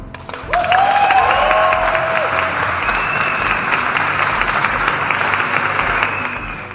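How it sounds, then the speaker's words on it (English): Sustained applause from a crowd at the 3rd Puzzles.pt jigsaw puzzle competition, rising suddenly and holding steady at a loud level for several seconds before tapering off at the end. "Before long, the first applause broke out again."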